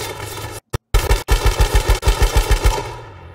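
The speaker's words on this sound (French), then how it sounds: "Allez, on nous tire dessus." Rapid automatic gunfire from the video game H1Z1 crackles in a dense burst of a dozen or so close, loud shots after a few brief stutters.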